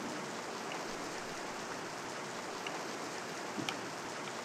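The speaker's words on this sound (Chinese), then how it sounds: "下雨。" Rain falling in a video game, a soft, steady hiss of continuous drops with no talk over it.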